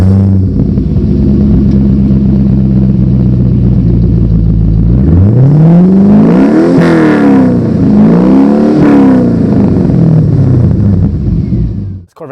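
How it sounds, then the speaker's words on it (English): A 2002 Chevrolet Corvette C5 Z06 with a Billy Boat Bullets aftermarket exhaust idles with a deep rumble, then revs up loudly twice in rising and falling sweeps before settling and cutting off. "which stands for Billy Boat Bullets. It's pretty much the loudest exhaust they make."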